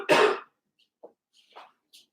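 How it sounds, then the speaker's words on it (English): A single loud cough into the elbow, one burst at the start, followed by a few faint small sounds and near silence. "I'm going to go over there and cough. I'm going to do it into my elbow."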